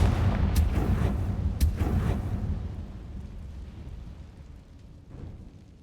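A fire spell blasts in Hogwarts Legacy, giving a loud rumbling boom with two sharp cracks early on, then a long, fading low roar with no talk over it.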